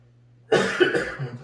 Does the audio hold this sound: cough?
yes